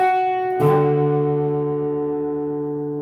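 A single guitar chord strummed once, ringing out clearly and sustaining as it slowly fades, with no voices.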